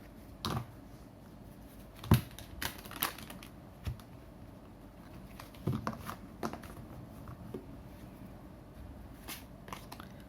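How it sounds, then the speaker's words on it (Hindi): A tarot card deck being shuffled by hand, soft papery riffles and flicks scattered irregularly over about ten seconds, quiet and close with no voice. "One more shuffle."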